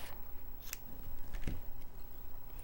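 Scissors snip through crochet yarn once while a fall sweater pullover is being finished, a single short crisp cut near the middle of a quiet stretch, close and fairly soft.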